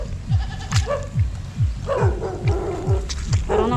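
Near a rice field, a dog barks in several sharp repeated yelps at close range. A steady rhythmic low thumping plays underneath, like footsteps in mud.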